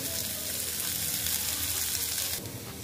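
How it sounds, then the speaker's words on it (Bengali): Onion frying in a pan for a pointed gourd (potol) dish with peanuts, mustard and poppy seed, giving a steady broadband sizzle that holds loud and close before easing slightly near the end, with no talking. "দেখো পেঁয়াজটা আমি সুন্দর করে ভেজে নেব।"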